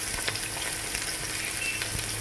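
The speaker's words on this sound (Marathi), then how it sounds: "म्हणजे छान फ्राय होईल." Finely chopped green chillies fry in a pan for restaurant-style paneer chilli, giving a steady, close sizzle with faint stirring scrapes throughout and no talking.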